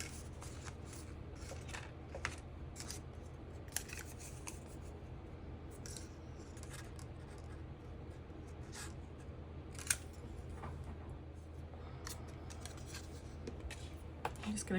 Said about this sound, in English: I'm just going to take my scissors and cut 2 pieces that are the same width as the bottom